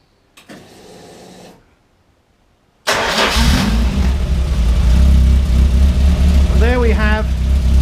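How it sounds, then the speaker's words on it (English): Car engine cranking to life during alternator experiments, with a brief whirring starter burst, a pause, then a loud steady running drone at speed; a voice talks briefly over it. "Now start the engine so that it runs at a proper speed."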